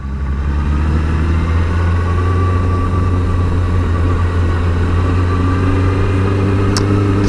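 A motorcycle engine drones steadily as the bike climbs a narrow mountain road on Gran Canaria, a loud, close, even hum with a brief rise near the end.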